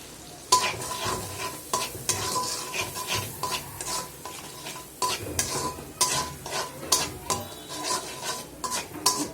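Shrimp bhuna with turmeric, chili, cumin and coriander powders is stirred in a frying pan, a soft sizzle beneath repeated scraping strokes of a spoon against the pan, close and moderately loud.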